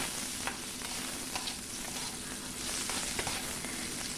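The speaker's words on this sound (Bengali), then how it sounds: "আলুগুলোকে আমি লাল লাল করে ভেজে নেব" Potatoes seasoned with turmeric and salt fry in a pan, giving a steady close sizzle with scattered clicks and scrapes from stirring throughout.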